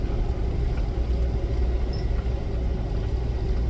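A Toyota Land Cruiser 70 Series rolls along a mountain road with snow and dirt, its engine a low steady rumble under faint road noise, no talking.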